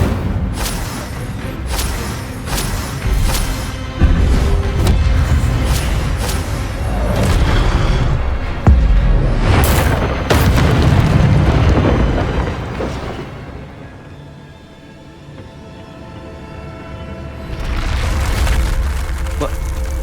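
Fire spell blasts in the PS5 game Hogwarts Legacy, a run of loud booming bursts and crackling hits over a steady rumbling game soundtrack, with a quieter stretch before the blasts pick up again near the end.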